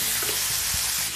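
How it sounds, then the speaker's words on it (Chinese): Pork liver fries in a hot pan with a loud, continuous sizzle and spatter, close up, in a short burst with no talking. "煎到兩邊少少，即刻要起咗佢啦。"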